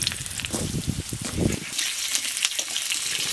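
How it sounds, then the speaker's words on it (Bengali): Whole potatoes fry in hot oil seasoned with cumin seeds and bay leaf, making a close, bubbling, crackling sizzle that surges at first and then settles into a lighter hiss, with no voices. "ফার্স্টে আলু গোটা একটু ভালো করে ভাজবো"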